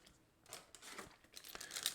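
Foil trading cards from the Flesh and Blood card game crinkle and crunch as they are handled up close, a string of short rustling bursts that grow busier toward the end.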